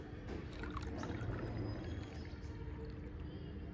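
Hot water poured into a cup for butterfly pea tea, a steady close splashing stream that runs without a break, with no speech over it.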